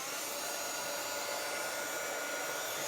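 A hair dryer blows steadily on a painted pallet board, a loud, even whooshing roar held close to the microphone for the whole stretch with no talking.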